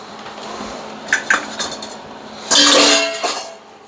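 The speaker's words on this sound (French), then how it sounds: "on va rajouter les tomates." Tomatoes go into a pan of creamy Cajun chicken pasta sauce with nearly melted cheese: a couple of light utensil clinks, then a loud, wet, splattering burst lasting about a second before it settles.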